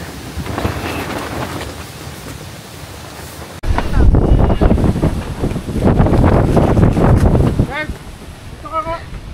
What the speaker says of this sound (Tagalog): Sobrang lakas talaga na hangin hanggang hindi tumitigil